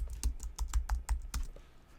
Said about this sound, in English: I'm going to search by typing like green field